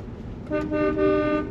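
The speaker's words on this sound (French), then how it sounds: "le klaxon fonctionne" A car horn in Portland gives a single steady honk lasting about a second, loud and close, with a faint rumble before it.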